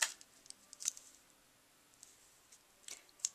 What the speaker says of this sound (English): I'm going to put them together first, and then I'm going to cut them in half.